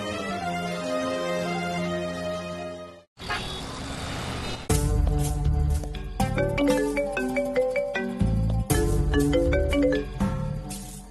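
A phone rings for an incoming call: a bright, repeating electronic ringtone melody plays clearly for about three seconds, then cuts off and gives way to a louder musical passage.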